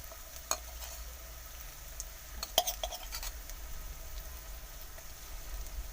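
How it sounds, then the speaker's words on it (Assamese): Ginger-garlic paste is stirred and fried with browned onions in a pan, giving faint scraping strokes, a few sharp clinks of the utensil and a low, steady sizzle, heard quietly and close up. "এতিয়া আদা নহৰুখিনি ভালকৈ লৰাই ভাজি ল'ম"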